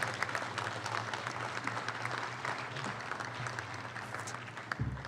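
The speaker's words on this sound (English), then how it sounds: "please give a round of applause for everybody who made that happen" Steady applause from a crowd at a topping out ceremony for the Moscone Center expansion, a dense patter of clapping that holds throughout at moderate loudness.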